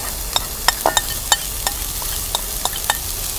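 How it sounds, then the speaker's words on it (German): Onions and garlic frying in butter in a pan, a soft steady sizzle broken by repeated sharp scraping clicks of stirring, close and uneven in rhythm. "Wir geben den Butter dazu. Und geben die geschnittenen Zwiebeln sowie den Knoblauch dazu."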